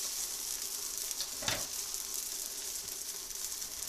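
Moroccan msemen crepe frying in a pan with oil and butter, giving a steady close sizzle throughout with one brief louder crackle midway, no voices.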